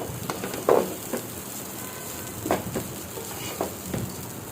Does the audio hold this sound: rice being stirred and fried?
yes